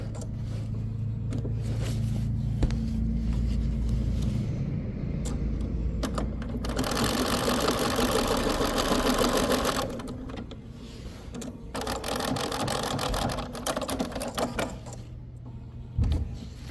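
A sewing machine stitches binding onto a Halloween treat bag, running in steady close bursts of needle chatter with short pauses and changes of pace between runs.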